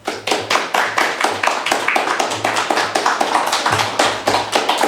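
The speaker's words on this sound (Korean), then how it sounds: "우리 목사님 나오실 때 우리 박수로 환영합니다" A church congregation claps together to welcome their pastor, producing a brisk, steady stream of close, loud handclaps with no talking over it.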